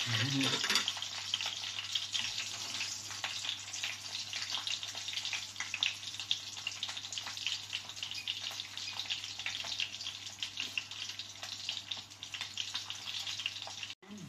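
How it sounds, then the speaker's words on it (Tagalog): Pork frying in a pan, a steady dense sizzle and crackle of hot oil that runs unbroken at moderate volume, close by. "Naluluto na po ang ating pork."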